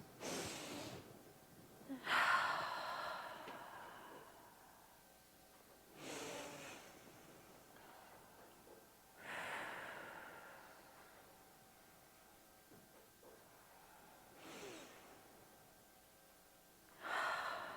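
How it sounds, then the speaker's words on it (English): A meditation group for healing takes deep breaths together: several slow, soft, airy inhales and exhales spaced a few seconds apart, fairly quiet and close, with no talking between them. "we're going to take 3 deep breaths"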